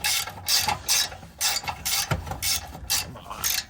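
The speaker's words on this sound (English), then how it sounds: "Let's see if this bolt tightens it up a little bit." A hand ratchet clicks in quick repeated strokes as a bolt is tightened on a Corvette, close and crisp with a steady back-and-forth rhythm.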